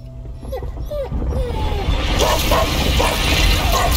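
Short yips and whimpers from a dog in the video game A Plague Tale: Innocence rise over a low rumbling game backdrop, then a louder burst of noisy sound washes over the last half.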